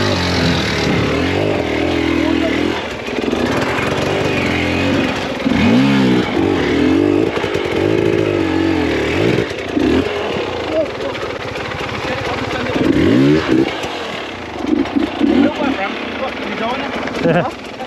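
Enduro motorcycle engine on a rocky riverbed climb, revving in surges and bogging as it strains up an awkward section, loud and close, with people talking over it at times.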